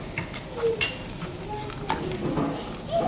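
Nuts being stirred into carrot halwa cooking in a pan, a close series of soft scraping and clinking strokes with a light sizzle underneath, fairly steady for a few seconds.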